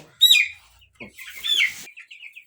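Broiler chicks about twelve days old on a poultry farm give close, high clucks and chirps in several uneven bursts, with short gaps between them.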